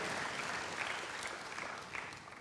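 A church congregation applauds for God, a broad rushing burst of many hands clapping together, strong at first and gradually fading over a couple of seconds.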